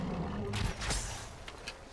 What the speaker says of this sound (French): Il en faisait du bruit, ce serpent.